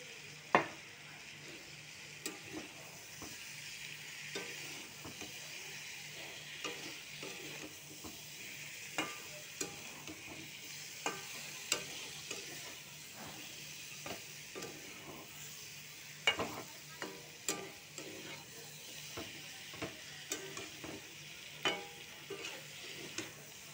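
Prawns frying with potato and Malabar spinach stalks in a pan for a Bengali curry, a faint continuous sizzle broken by frequent clinks and scrapes of a spoon against the pan.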